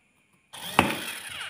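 A cheap cordless screwdriver drill drives a second screw, its motor whirring steadily at close range after a short silence, with a brief sharp click as it starts.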